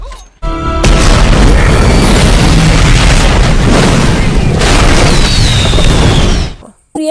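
Fuel blowing up in an action film scene, one sustained, loud roaring blast that rumbles and crackles for several seconds after a sharp onset, then cuts off abruptly.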